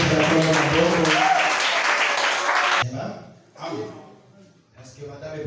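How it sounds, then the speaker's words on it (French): A church congregation applauds and cheers for the rock of Montsaï, loud dense clapping and shouts for about three seconds, then breaking into scattered voices and laughter. "Est-ce qu'on va acclamer pour le rocher?"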